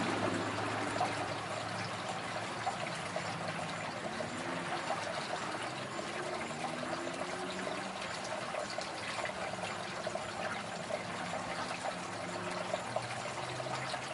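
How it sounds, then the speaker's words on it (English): Water flowing and trickling steadily, a soft continuous wash that stays even from start to finish with no break. "Listen to the water."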